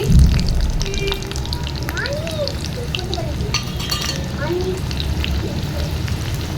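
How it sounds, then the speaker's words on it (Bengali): Cumin seeds and chopped onion hit hot oil in a pan over a wood fire, giving a steady loud crackling sizzle with stirring scrapes and a faint voice in the background. "আচ্ছা তেল এখানে গরম হয়ে গেছে এই দিচ্ছি জিরে পড়ো আর দিচ্ছি পেঁয়াজ কুচি"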